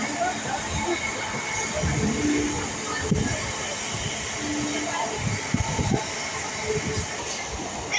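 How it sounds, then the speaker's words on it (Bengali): A passenger train bound for Naihati rattles and hums continuously from inside a carriage, with a steady hiss and intermittent low clunks and knocks, fairly close and moderately loud. "আমরা ট্রেন ধরেছি, যাচ্ছি নৈহাটি।"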